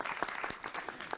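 An audience at a philosophy talk applauds briefly, with uneven, somewhat sparse hand claps close by.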